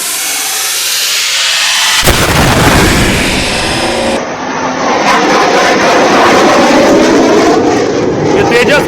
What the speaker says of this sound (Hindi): ये तेजस की पहली उड़ान आप देख रहे हैं जो भारत में तैयार हुआ है